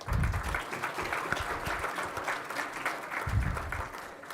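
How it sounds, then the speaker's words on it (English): Steady applause from an audience at a school of pharmacy induction program, a continuous even clapping that fills the whole stretch with no voices over it. "Please give a big round of applause for sir"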